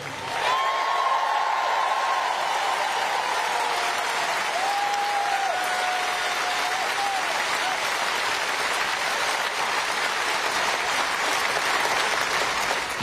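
Sustained applause from a crowd at a political rally, loud and steady throughout with dense clapping and no break.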